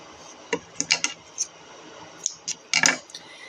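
Scissors trimming a fabric piece for Boro sashiko, a few sparse crisp snips and clicks close by, irregular and separated by quiet gaps.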